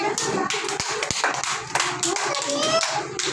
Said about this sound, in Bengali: হাত হাততালি দাও তানবিরের জন্য সবাই